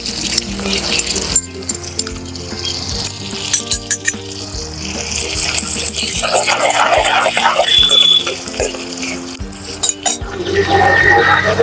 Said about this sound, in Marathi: लसूण मिरचीचा ठेचा आपण याच्यात आता तेलात परतून घेऊया.